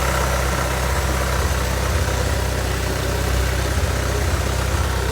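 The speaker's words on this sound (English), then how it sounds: "you can see the AC compressor cycling" A 1996–2000 Honda Integra engine idles steadily with the AC compressor running after an evaporator and receiver drier job, a loud, even engine drone with no speech.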